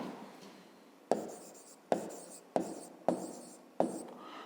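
Pen or pencil writing down a math answer on paper, five sharp strokes at roughly even intervals, each a quick scratch that fades, close and quiet with no talk.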